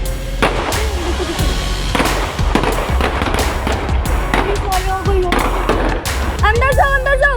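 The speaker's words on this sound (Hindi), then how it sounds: "राज साहब ने अभी जो यहाँ पे वारदात हो रही थी, ऑन द स्पॉट पहुँचे, फायरिंग की, वो भी नाज़रीन देखिएगा स्क्रीन पे" Gunfire during a police shootout with terrorists, with sharp, loud cracks and bangs scattered irregularly through a noisy scene, mixed with excited voices and background commotion.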